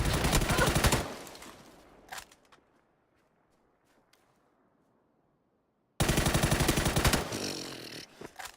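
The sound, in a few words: gunfire in the video game PUBG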